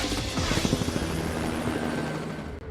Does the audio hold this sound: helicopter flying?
yes